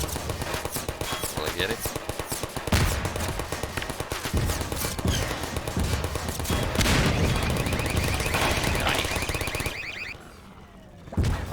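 Sustained automatic turret fire from Half-Life 2 Episode 2 rattles in dense bursts with booming hits mixed in, loud and continuous, while someone talks over it, ending in a brief lull.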